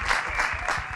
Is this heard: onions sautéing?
no